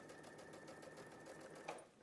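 Sewing machine stitching along a laser guide line, a steady fast whirring hum running throughout, close and fairly quiet.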